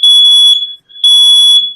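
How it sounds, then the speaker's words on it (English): Loud, piercing fire alarm sounding in two long high-pitched blasts separated by a brief gap, close and alone with no voices. "fire alarm"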